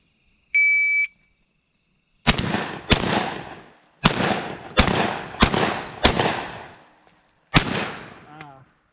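A shot timer's electronic beep, then seven sharp rifle gunshots fired at targets, loud and close with echoing tails, spaced unevenly over about five seconds.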